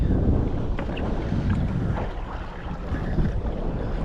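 Northwesterly wind gusts over a small boat on choppy tidal water in Moreton Bay, a steady rough rush of wind noise on the microphone with faint water slaps and no voices.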